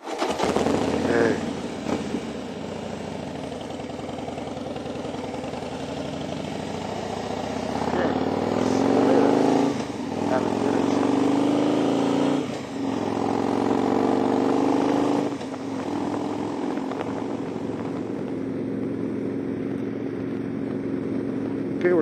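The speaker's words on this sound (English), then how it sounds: "don't drop your bike, Ray" A motorcycle cruises along a road on an adventure ride to work, its steady engine drone and wind rush continuous throughout, swelling a little in places as the rider holds speed, with a voice talking intermittently over it.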